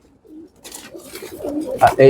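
Pigeons coo nearby in low throaty bursts, a few soft calls building up with some faint background voices.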